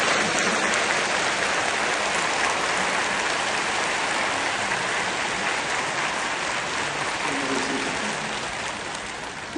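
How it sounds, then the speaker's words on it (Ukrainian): A church service hall audience bursts into dense, sustained applause, loud and continuous, slowly tapering toward the end. "Коли зал почув про Україну, він вибухнув аплодисментами"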